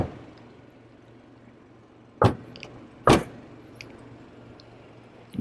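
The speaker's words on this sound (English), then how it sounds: "Didn't quite get enough force on the hood, but closed it anyway." Two sharp, loud thuds of the hood on a 2023 BMW 330i coming down about a second apart, the second the heavier, against quiet idle background with small clicks between and no talking.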